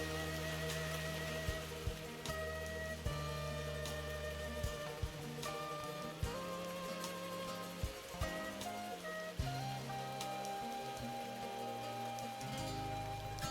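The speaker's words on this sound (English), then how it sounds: "After we arrived at the port, it poured for a while." Heavy rain pouring down at a river port market on the Amazon, a dense continuous patter drumming on surfaces and covers, with scattered louder drips and low rumbling under it throughout.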